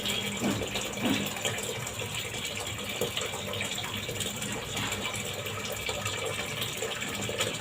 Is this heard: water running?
yes